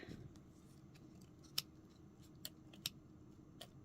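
Scissors snip floral wire in a quiet indoor space, a few sharp, isolated metallic clicks spaced about a second apart over faint background noise.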